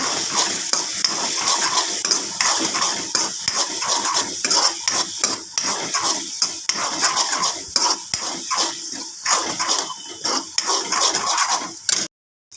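Taro root and dried prawns in a chili-spiced curry are stirred in a pan, a spoon scraping and clinking steadily against the metal over a soft sizzle, close and continuous for the whole stretch.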